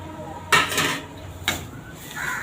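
A spoon scrapes and clinks against a pan while spice powders are stirred into a ghee egg gravy, with two distinct scraping bursts close by and a softer swirl at the end.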